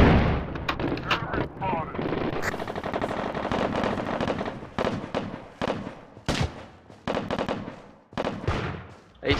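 Loud, close automatic gunfire in the America's Army: Proving Grounds game, with rattling bursts and single cracks in quick succession, broken by short pauses and mixed with distant shots.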